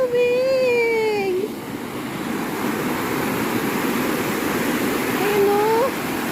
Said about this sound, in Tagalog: Tapos dito sa kabila mas malakas. Yan, ang tubig.